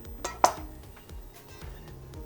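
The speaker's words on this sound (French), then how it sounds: "je coupe le reblochon avec la peau" A knife cuts through creamy reblochon cheese with its rind, giving soft, quiet scrapes and a couple of sharp metallic clinks against the board or dish nearby.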